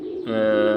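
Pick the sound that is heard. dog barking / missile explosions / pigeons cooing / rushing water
pigeons cooing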